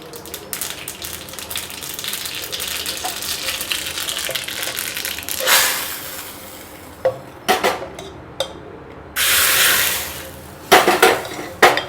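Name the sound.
mustard seeds spluttering in hot oil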